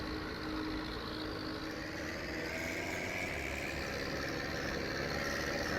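A John Deere 6810 tractor engine in Farming Simulator 17, a steady droning rumble running continuously at even loudness, with no speech over it.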